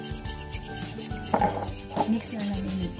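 A spoon works through cornmeal puto batter with milk and vanilla in a bowl, giving soft steady stirring scrapes and a few sharper knocks against the side, fairly quiet and close.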